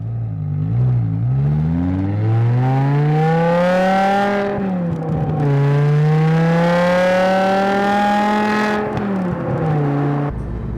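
BMW E60 M5 engine droning loudly and steadily from inside the car, pitch rising and falling through gear changes as it accelerates, with no talking.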